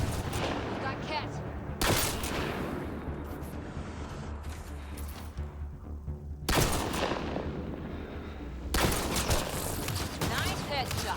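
Gunfire in the video game Mass Effect Andromeda, with sharp loud bursts at intervals over a continuous backdrop of battle noise and voices.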